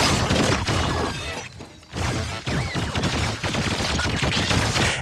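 Firecracker trap explosions from a 2025 Predator: Badlands action film scene, a dense barrage of loud cracking bursts and crashes, briefly dropping away before the blasts resume.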